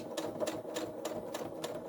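A sewing machine stitches in reverse to lock a seam while a sling bag is being made, with quick, evenly repeated mechanical bursts running steadily at close range and no voices.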